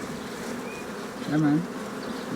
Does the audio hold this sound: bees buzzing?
yes